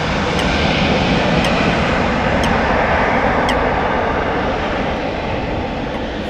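A plane's engines roar loudly and steadily at Amsterdam Schiphol Airport near runway 18 left, a broad continuous rumble with no voices.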